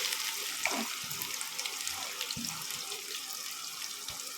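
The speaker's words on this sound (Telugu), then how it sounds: "ఇప్పుడు ఆయిల్ వేడైన తర్వాత ఆనియన్స్ వేసుకుందాం." Onions sizzle in hot oil as the start of a country-chicken egg fry, giving a soft, steady hiss with scattered light crackles that stays fairly faint and even throughout.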